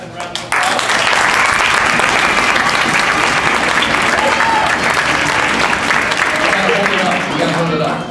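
Audience applause for students at an elementary school strings concert, a sudden burst of many hands clapping that holds loud and steady, with voices talking and cheering mixed in.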